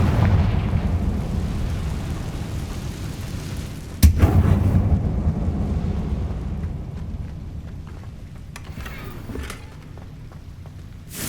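Confringo fire spell in Hogwarts Legacy gameplay, a sharp explosive burst striking about a third of the way in over a steady rumbling game soundscape, followed by a softer crackling decay.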